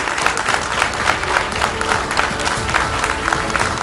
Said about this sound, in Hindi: जोरदार तालियों के साथ हम चाहेंगे कि आप इस शानदार सार्थक चौपाल का स्वागत करें